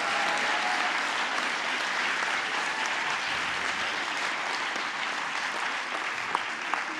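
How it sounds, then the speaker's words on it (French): An audience applauds a prize winner, sustained crowd clapping that is dense and fairly loud, holding steady for several seconds with a few sharper claps near the end. "Et on peut l'applaudir."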